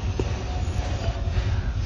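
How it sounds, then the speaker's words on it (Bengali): Low, steady rumble of a shunting locomotive rolling slowly along rails while changing lines, with faint metallic squeaks, heard close and continuous. "এই যে লাইন চেঞ্জ করার পরে কিন্তু আবার সে ইঞ্জিনটা চলে আসছে এইখানে"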